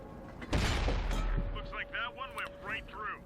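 Hellcat tank cannon firing in a video game, a heavy booming shot with a rumbling tail, followed by a voice talking over the fading echo.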